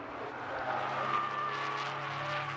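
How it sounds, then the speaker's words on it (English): Porsche race cars in a Porsche Club Championship race at Donington Park, with steady engine roar and a thin high tyre squeal running through it as a car heads toward a spin at Redgate Corner. "You can hear the squeal of tyres"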